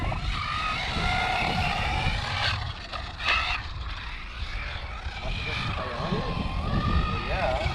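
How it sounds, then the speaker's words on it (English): An ARRMA Typhon RC car motor whines as the throttle is blipped on and off, the pitch rising and falling in waves over a rough outdoor rumble at moderate distance. "I hear the throttle going on and off"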